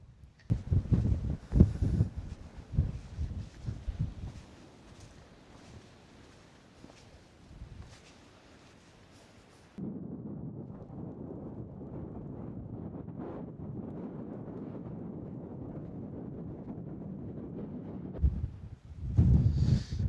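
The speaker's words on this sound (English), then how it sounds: "especially on a day like today when the wind is very strong." Strong wind buffets action camera microphones outdoors, rumbling and gusting unevenly at first, then settling into a steady low roar with a louder gust near the end, close and dominant throughout.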